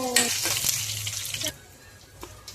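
Ghee sizzles in a hot pan, a short burst of frying hiss with a few clinks and scrapes before fading to a quieter background.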